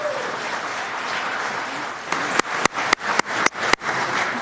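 Applause from an audience at a city council meeting, a steady wash of clapping joined by a few sharp, distinct nearby claps near the end.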